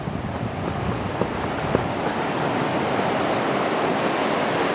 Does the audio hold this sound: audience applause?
no